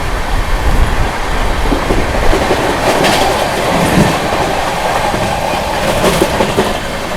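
Sampoorna Kranti Express running flat out at 130 km/h while overtaking the Magadh Express in Bihar: a loud, steady rush of train noise with rhythmic wheel clatter and occasional squealing throughout, no voices.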